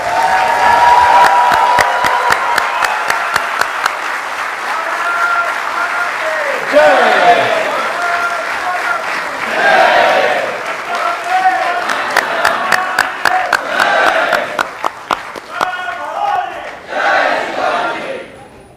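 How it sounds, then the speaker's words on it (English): An audience at an Indian community gathering in Brisbane rises to give a welcoming guest a long, loud round of applause mixed with cheers and crowd noise, surging and fading over nearly twenty seconds, with voices shouting over it. "Can I please request everyone to stand up and give him a big round of applause as we welcome him."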